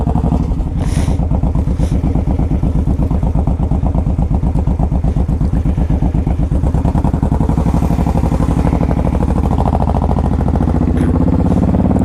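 A Honda VTX 1800 motorcycle climbs a hill under load, its big engine giving a loud, steady, deep pulsing drone that holds throughout, with faint rising revs and wind noise.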